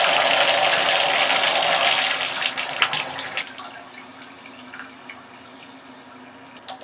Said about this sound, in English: I'm just going to turn on the water